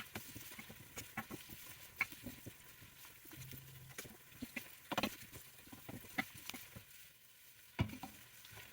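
Onions, garlic and chili sautéing in a pan for spaghetti sauce, a soft, quiet sizzle with scattered clicks and scrapes from stirring, no voices.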